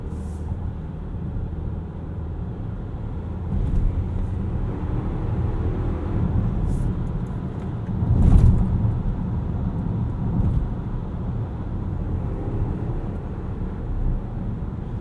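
Cabin of a 2018 Volvo XC60 T8 plug-in hybrid while driving, a steady low road and drivetrain rumble that swells briefly around the middle, heard from inside without talk.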